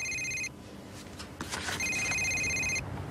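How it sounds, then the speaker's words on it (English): A telephone rings twice, each bright electronic trill lasting about half a second to a second with a short gap between, fairly close and clear over a quiet room. "Was that my phone?"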